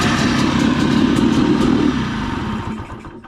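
A 2-stroke trike engine running loud and close after being cranked on its starter motor and fired up, a dense rough buzzing roar that holds steady, then drops slightly and settles toward the end.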